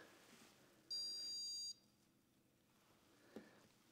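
A single high, steady electronic beep from a Prusa MK4S 3D printer, lasting under a second, clear against a quiet background, followed later by a faint tap of the nozzle.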